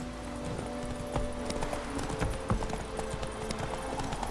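Hoofbeats from Roach, Geralt's horse in The Witcher 3, clip-clopping in a steady rhythm at close range over a continuous game ambience with a faint tonal hum.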